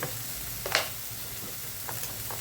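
Vegetables with turmeric sizzle steadily in hot oil while being stir-fried for a sabji, a low continuous crackle broken by a few sharper spits and stirring scrapes.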